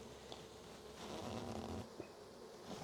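Honeybees hum around an opened hive with exposed comb, larvae and honey, a steady close buzzing drone that swells in the middle and continues without talk.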